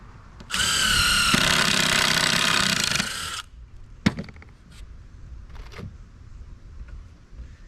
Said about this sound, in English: Countersink.